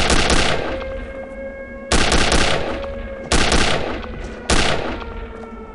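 Bursts of automatic gunfire from Return to Castle Wolfenstein, set in an ice-bound station in Norway: four loud, close volleys, each with a sharp onset and a ringing decay, spaced about a second and a half apart with no talking.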